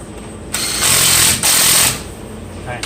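A power tool, probably an impact wrench, tightens a brake caliper bolt on a Nissan Rogue front brake job, giving two loud buzzing bursts close by with a brief pause between them.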